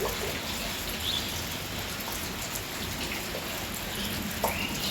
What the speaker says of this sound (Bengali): আজকেও সারাটা রাত ধরে বৃষ্টি হচ্ছিল তো এখনও বৃষ্টি পড়তেছে দেখো